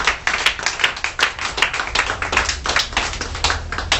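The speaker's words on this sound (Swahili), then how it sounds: "Mpigie Bwana makofi makubwa." A church congregation at a Sunday service claps loudly and steadily in praise, a close, dense burst of many hands throughout with no speech over it.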